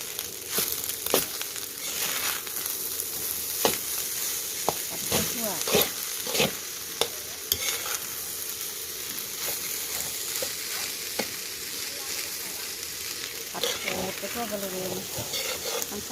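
Rapid scraping and clattering of a spatula against a wok while stir-frying rice, over a steady sizzle, with irregular metallic knocks throughout.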